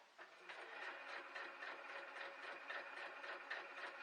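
A sewing machine hums along steadily as it runs a large basting stitch around the edge of a foundation paper-pieced quilt block, its continuous rhythmic clatter close and moderate in level.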